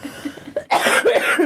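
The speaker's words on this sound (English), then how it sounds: "That's a cough for you there." A harsh, wet cough played as a sound effect of a terminal throat-cancer patient: soft throaty grunts lead into a loud, raspy run of hacking bursts lasting about a second.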